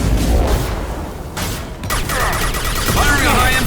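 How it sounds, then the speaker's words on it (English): A burst of gunfire and booming impacts in the video game Mass Effect 2, loud and close, crackling shots followed by a lingering rumble. "Firing a high-impact shot!"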